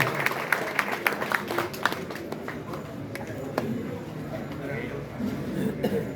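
A crowd at a church feast auction claps, with a burst of scattered, uneven applause at first that thins into lighter clapping and crowd murmur, under a voice talking.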